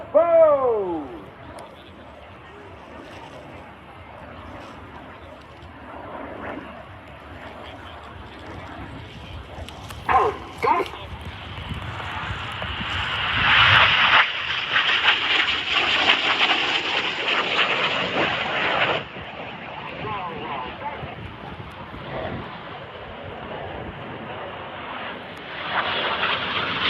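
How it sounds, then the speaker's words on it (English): Display jets at RIAT 2023 fly the crossbow manoeuvre, rolling and inverting as they leave the display area, their engines swelling into a loud roar mid-pass before fading, with commentary running underneath. "they perform a series of barrel rolls and inverted flights to leave the display area in a manoeuvre called the crossbow"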